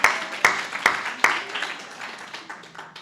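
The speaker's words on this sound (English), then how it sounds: "Everybody applaud, please." Scattered audience clapping at a public talk: a few sharp, loud claps at the start, then lighter, thinning applause that fades over a few seconds.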